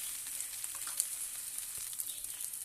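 Spices with raw tomatoes, green chillies, salt, turmeric, cumin powder, potato and taro frying for a rohu fish curry, a steady soft sizzle and crackle throughout, fairly quiet and alone.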